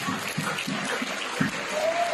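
Audience applause for students at the close of a science quiz contest at IISF, a steady wash of clapping from a moderately sized crowd with no voices over it.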